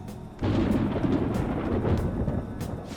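A deep rolling rumble of thunder breaks out suddenly and sustains loudly before a rain shower in Persona 5 Royal, broad and booming, with no speech over it.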